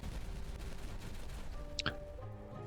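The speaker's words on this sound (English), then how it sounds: "so we can go ahead and detonate that" Dynamite blasts go off in the beaver city-building game Timberborn: a quick double explosion, two sharp cracks close together, then a short ringing tail over steady background music.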